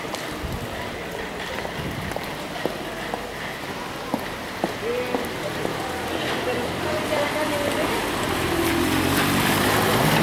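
Rain patters steadily on an evening city street in Santa Cruz de Tenerife, Canary Islands, with scattered drips and splashes and a faint passing car toward the end.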